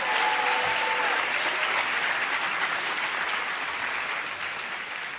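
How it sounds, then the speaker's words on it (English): An audience applauds after a percussion ensemble's opening piece of mallet, battery and auxiliary instruments at a school concert; dense, sustained clapping fills the room throughout, fading only slightly toward the end. "Let's give them another round of applause for that amazing opener."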